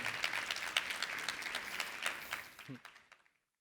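An audience at a conference plenary session applauds to welcome a speaker, a steady crowd clapping of moderate loudness that fades out near the end.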